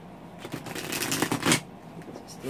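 A steampunk tarot deck being shuffled by hand, a soft flurry of riffling card flicks and rustles lasting a couple of seconds, close and moderately quiet with no talking.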